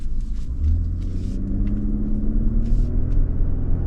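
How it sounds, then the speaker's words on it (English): Twin turbo V6 in a Lexus LX600 accelerating, heard as a smooth, steady low rumble from inside the cabin with a gently rising tone and no gear changes audible, fairly quiet and even throughout. "Twin turbo V6."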